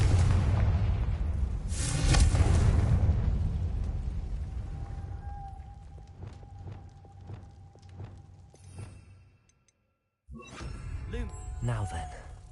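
A Confringo fire curse detonates in Hogwarts Legacy with a loud, broad blast that rolls and fades over several seconds. Dialogue continues over the game sounds, and a sharp clash follows after a brief dropout.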